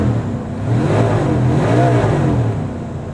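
A 1981 Chevy G30 Lazy Daze RV with a 351 V8 runs loud and close just after a cold start, its engine revving up and settling back in a smooth rising and falling drone.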